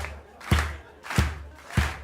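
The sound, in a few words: audience clapping hands to the rhythm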